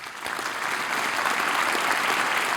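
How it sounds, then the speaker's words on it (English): A conference audience at an AI policy opening session breaks into applause for Professor Stuart Russell, dense clapping that swells and holds steady, loud and close. "Give him some applause."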